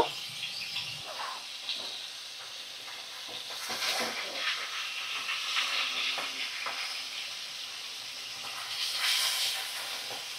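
Soft Bhola fish fillets fry in hot oil, a steady broadband sizzle with occasional stirring scrapes and louder bursts of spitting around the middle and near the end, close and continuous with no talking.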